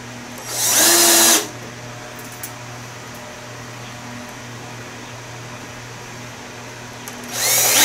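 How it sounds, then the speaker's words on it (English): A power driver sinks screws into a floating-ball archery target build, heard as two short loud bursts, one at the start and one at the end, with a quiet workshop in between. "I'm just going to put two screws in"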